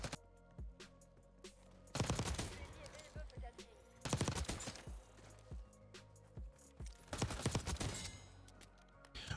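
Gunfire in Black Ops 6: several bursts of automatic weapon fire separated by short pauses, with rapid sharp shots and game effects under a faint voice.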